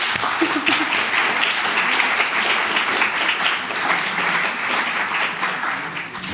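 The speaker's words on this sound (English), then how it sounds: "So let's give an applause to our panel." Steady applause from a conference audience for a panel, a dense, even patter of clapping that holds for several seconds, with a brief voice early on.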